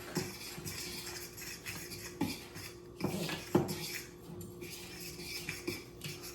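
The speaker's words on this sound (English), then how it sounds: "I like to mix my powder up with a fork." A fork scrapes and clinks against a dish while mixing seasoned powder for breading fish, soft irregular taps and scrapes with a few sharper knocks, close and fairly quiet.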